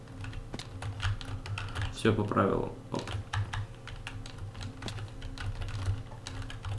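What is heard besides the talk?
computer keyboard typing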